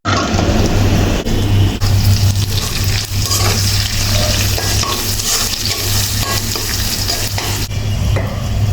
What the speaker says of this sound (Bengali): বেশি করে পেঁয়াজ দিয়ে এই করলাটা ভাজি করা হবে